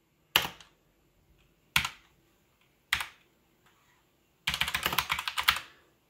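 A TESmart HDMI KVM switch toggles a USB keyboard between computers. Three sharp, isolated clicks come at even intervals, followed by a longer burst of rapid clattering keyboard clicks in a quiet room.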